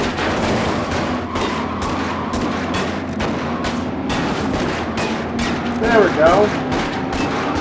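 Rapid gunfire from a cop car in the Starsky & Hutch driving game, a steady run of sharp repeated shots over engine rumble, with someone briefly talking over it.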